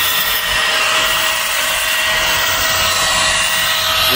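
A power grinder runs steadily on roof cement, a continuous loud high-pitched whine with no pauses and no voices over it.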